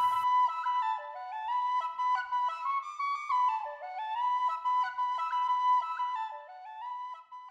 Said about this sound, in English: Let's take a listen to the penny whistle.